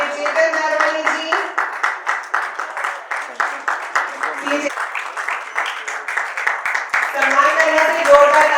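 An audience at an award and honour ceremony claps in a steady rhythm, loud and evenly paced, while a voice carries on over the top.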